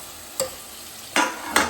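Chicken pieces hiss and crackle in hot ghee in a pot as they are stirred, with a faint sizzle at first and then two louder, close stirring bursts.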